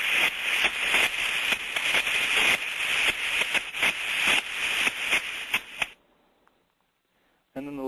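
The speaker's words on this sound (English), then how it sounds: "If we have a trap that is motor boating or machine gunning, it's going to sound like this." A steam trap that is motor boating or machine gunning gives a rapid, uneven burst of sharp hissing pulses for about six seconds, then cuts to near silence before a brief return.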